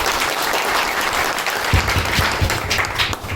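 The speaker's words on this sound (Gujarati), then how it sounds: "તાળીઓ પાડો" Steady applause from an audience at a gathering of retail partners, dense hand clapping that runs without a break throughout, with a few louder claps standing out near the middle.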